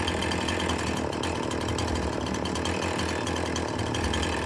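Chainsaw cutting through a tree trunk in Farming Simulator 19, a steady, loud, continuous engine drone with buzzing saw noise that holds unbroken from start to finish.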